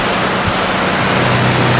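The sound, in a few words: water flowing through 5-inch fire hose into pumper intake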